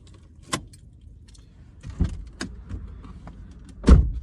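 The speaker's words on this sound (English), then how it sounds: "let's say I'm gonna turn off my car" Keys jangle in a car as it is switched off, a few sharp metallic clinks and knocks spaced out over quiet cabin ambience, close and fairly loud.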